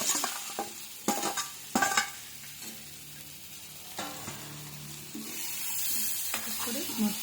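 Taro pieces and onions fry in a pan, a soft, close sizzle broken by a few sharp scrapes and clatters of stirring, with a hiss that swells near the end.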